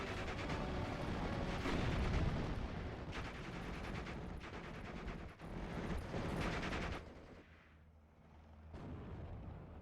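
Heavy gunfire and explosions in a World War II strategy game featuring Allied M1919 machine guns, a dense, loud continuous barrage of bursts and booms that thins out toward the end.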